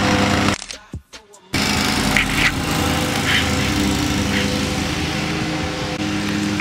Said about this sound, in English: these motherfuckers started mowing across the street